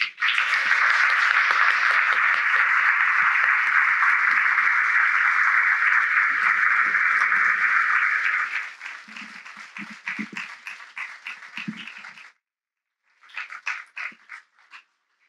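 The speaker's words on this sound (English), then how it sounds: "please give each of our panelists a round of applause" A panel audience at a Seattle launch event with Bill Gates and Kevin Rudd gives sustained, loud applause for about eight seconds, then the clapping thins into scattered claps and murmuring before a brief pause and a short final burst.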